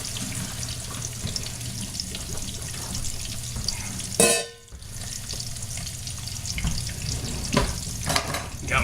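Cooked spaetzle is tipped out and strained in a home kitchen, with a sudden loud splashing rush of water into the sink lasting about half a second amid a steady background of running water and sizzling.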